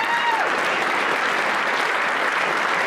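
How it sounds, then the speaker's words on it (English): Dense, sustained applause from a high school assembly crowd honoring Hall of Fame inductees at Pueblo Centennial High School, loud and even throughout, with a faint whistle early on. "Let's give them one more round of applause."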